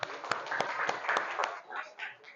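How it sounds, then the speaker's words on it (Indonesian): In a sociology classroom lesson, about five sharp, evenly spaced hand claps ring out close by, mixed with people talking, and the voices continue after the claps stop. "Tepuk tangan."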